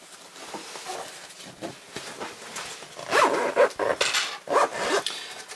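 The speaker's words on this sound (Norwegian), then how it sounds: "Nå vrenger jeg den og tar igjen glidelåsen." A zipper on a small sewn round fabric purse is pulled closed, a few scratchy rasping runs building up close and fairly loud with light handling noise.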